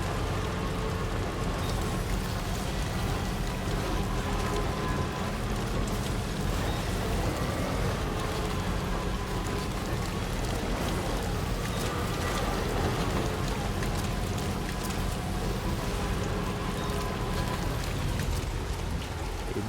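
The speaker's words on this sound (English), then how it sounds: "Starting to rain again." Steady rain falls in Death Stranding 2 On The Beach on PS5 Pro, a dense, even hiss of drops on surfaces with low rumbling underneath, unbroken for about twenty seconds with no talk.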